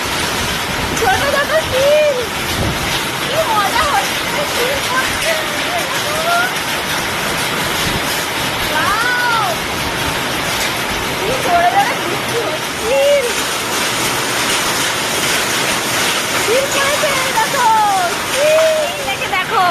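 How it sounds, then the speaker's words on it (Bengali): Heavy rain during a hailstorm with water pouring from a pipe, a dense, steady rushing wash that stays loud throughout, with faint voices beneath. "পাইপ লাগানো হয়েছে কিভাবে জল পড়ছে"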